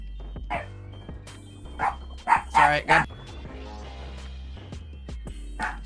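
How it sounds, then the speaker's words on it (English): Several dogs bark in short loud bursts at close range, with a few yips and whimpers in between, over a steady low hum. "Sorry, I got dogs barking."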